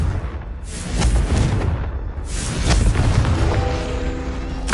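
A Confringo blasting spell explodes in Hogwarts Legacy, with repeated booming bursts rolling one after another through a loud, sustained, rumbling roar, and no voices heard.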